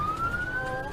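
An ambulance siren wails loud and close in a short burst, a single rising tone sweeping steadily upward over engine and road rumble.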